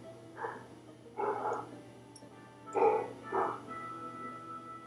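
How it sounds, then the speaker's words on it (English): A pet dog barks in short bursts, four separate yelps spread across a few seconds, fairly close and moderately loud over a low steady hum. "It's my dog."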